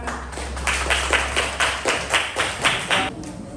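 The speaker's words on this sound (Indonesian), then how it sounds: "Kita kasih tepuk tangan." Steady rhythmic clapping in a classroom, about ten even claps in unison, fairly close and clear over a low background hum.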